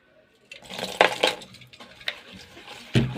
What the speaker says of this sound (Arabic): ونقلب السكر